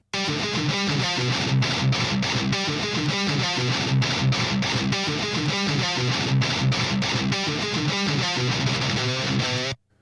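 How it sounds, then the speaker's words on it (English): An electric guitar plays through an overdrive pedal set as a clean boost, with drive at zero, level at maximum and tone midway, giving a loud, bright, sustained riff with rhythmic strums and short breaks before stopping abruptly near the end. "We're using the pedal not as a distortion box, but as a powerful tone shaping boost"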